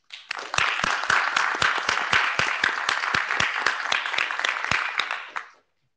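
An audience at an IETF meeting claps for Chris in a steady, rhythmic beat of loud, crisp claps that carries on for several seconds and then stops abruptly.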